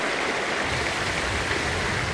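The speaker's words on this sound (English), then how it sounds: "It's the sound of the waves surging through the first floor of the house" Loud, steady rush of hurricane storm-surge waves churning through the first floor of a house, a continuous roaring wash with no pauses, close and enveloping.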